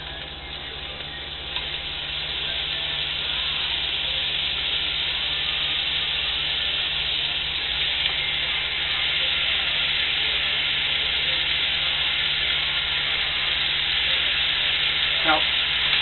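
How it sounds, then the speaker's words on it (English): Beef browns in a hot pan for chuck wagon style chili, giving a loud, continuous sizzle and crackle that holds steady throughout with no talking. "And you start to brown your beef."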